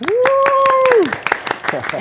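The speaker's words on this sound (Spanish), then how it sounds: "Un aplauso" An audience claps in welcome for a guest engineer at a talk event, sharp dense claps repeating through the clip, heard over a sustained tone at the start and carrying on after it fades.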